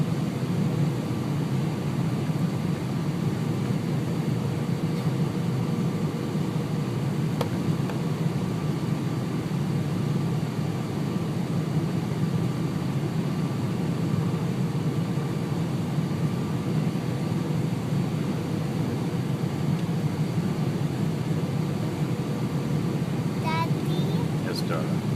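Inside an airliner cabin during a night landing approach over Richmond into Vancouver International Airport: a steady, loud engine and air roar fills the whole stretch without pause, with a faint tick near the end.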